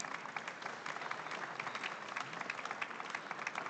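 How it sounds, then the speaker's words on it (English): Audience applause at a business conference panel, a steady, fairly quiet wash of many hands clapping that continues evenly throughout. "Yeah, you can applaud."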